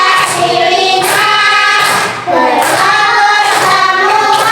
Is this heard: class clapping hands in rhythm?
yes